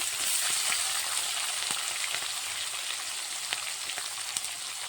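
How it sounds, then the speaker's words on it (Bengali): Chopped onion and green chili frying in a pan, a steady close hissing sizzle with small scattered pops and spatters, no talk. "এবার পেঁয়াজ কুচিটা দিয়ে দিলাম আর কাঁচা লঙ্কা কুচিটা"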